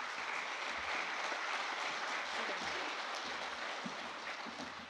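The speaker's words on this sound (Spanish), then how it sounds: "Fuerte aplauso, por favor." Loud, steady applause from an audience at an event, a dense wash of clapping that holds throughout without a break.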